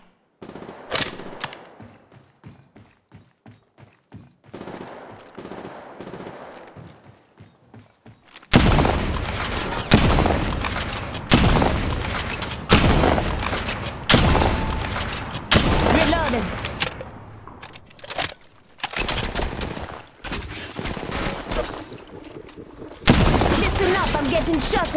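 Repeated bursts of automatic gunfire in the mobile battle royale game Apex Legends Mobile, quieter distant shots at first, then loud close volleys with brief gaps.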